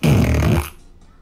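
A single loud, low, buzzy fart lasting about half a second, close and clear, then fading into a quiet room.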